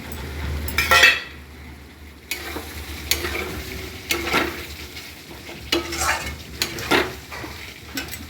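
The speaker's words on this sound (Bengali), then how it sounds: "টক দই দিয়ে নাড়াচাড়া করে ভেজে যে মশলাটা রেখেছিলাম সেই মশলাটা দিয়ে দেবো।" Spice paste fried with sour yogurt being stirred in a pan: a sizzle runs throughout, with repeated clinks and scrapes of a metal spoon against the pot, close and fairly loud, no talking.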